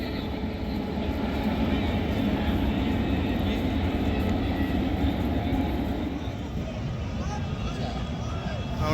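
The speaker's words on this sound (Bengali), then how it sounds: "আর সামনে দিয়ে ট্রেন যাবে এখনই ফাটাফাটি" A train crossing a bridge over the Ganges, a loud continuous rumbling roar with rattling wheel noise that holds steady for the whole stretch, close by and alone.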